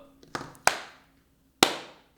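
Hand claps on the beat of a Ukrainian song ring out as a few sharp, separate hits: two close together, then one more after a short pause, each dying away quickly.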